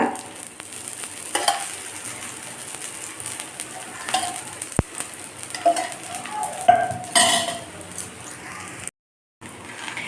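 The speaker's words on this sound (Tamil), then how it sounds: "இப்போ எண்ணெய் ஊற்றி நாங்கள் அதை சுடுவோம்." A ragi roti with drumstick leaves cooks in oil on a pan, sizzling steadily while a utensil stirs and scrapes with occasional light clinks, then cuts to a brief silence near the end.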